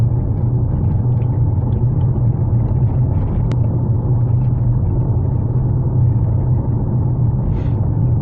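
A big truck passes close by on the road, heard from inside a moving Mitsubishi Outlander PHEV: a steady, loud low rumble with broadband road noise that holds for several seconds.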